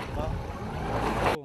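Patrol boat cruising along the Kislitsky branch of the Danube, a steady broadband engine and water rush with wind buffeting the microphone, loud and continuous before cutting off abruptly near the end.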